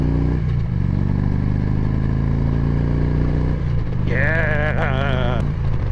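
A motorcycle engine idles with a steady low rumble, then is revved near the end, rising and falling in pitch through a couple of quick throttle blips.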